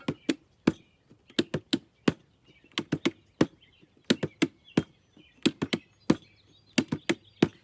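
Two hands drum in quick, irregular bursts of sharp, dry hits, some single and some in rapid clusters, with brief pauses between.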